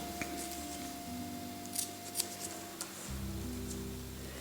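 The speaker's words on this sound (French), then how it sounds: "Nous allons maintenant pouvoir couper les 2 extrémités sans danger." Scissors snip through the ends of macrame paracord with a few quiet, sharp cuts spread over several seconds against a low steady background hum.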